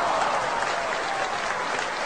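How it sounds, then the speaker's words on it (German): Dense, steady applause from a live audience at a nutrition talk, a loud, continuous wash of clapping heard alone with no speech. "Nochmal eben Applaus für den Körper."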